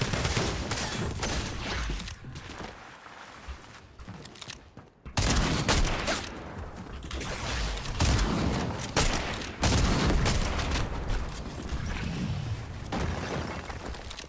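Repeated shotgun blasts from a double-pump setup in Fortnite, loud and dense bursts filling the clip, with a brief lull around the fifth second before heavy firing resumes.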